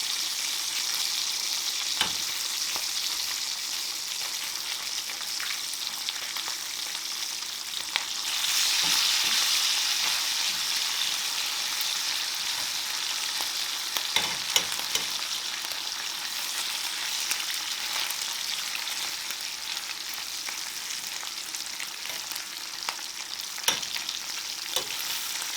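Thick bacon fries in a pan with a steady, close crackling sizzle, dotted with sharper pops and occasional scraping stirs, and no talking.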